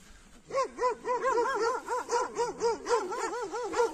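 Kangal puppies whimper and yip in a rapid, continuous string of high, wavering whines and short barks, close and fairly loud.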